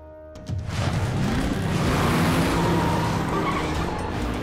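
A Hot Wheels toy car at full throttle roars up loudly and close after a brief quieter start, its tires squealing and engine note holding strong throughout.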